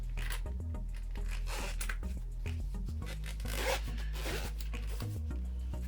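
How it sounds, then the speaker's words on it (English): The zipper on a small carrying case for a Movo wireless microphone is pulled open in a series of close, raspy strokes that run continuously and fairly quietly. "And when you zip it open,"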